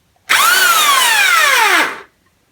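A Qualcast electric hedge trimmer with a faulty drive to the blades runs for about two seconds, its motor spinning up to a loud high whine that slowly falls in pitch before it stops.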